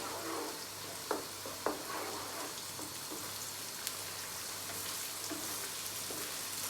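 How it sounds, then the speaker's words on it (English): Spicy dry lotia fish curry with vegetables is stirred in a pan over a soft, steady crackling sizzle. A few sharp taps and scrapes of the spoon stand out early on, with no talking. "I'm going to stir it."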